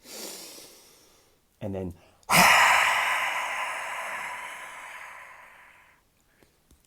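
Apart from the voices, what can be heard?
breath work, breathing in through the nose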